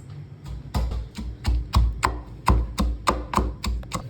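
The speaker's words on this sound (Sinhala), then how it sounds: "ලුණු මිරිස් එක කොටන එක අයියයි මල්ලි බාර අරගෙන" A lunu miris sambol of chili and salt is pounded by hand, giving sharp, rhythmic thuds of roughly three per second, loud and close.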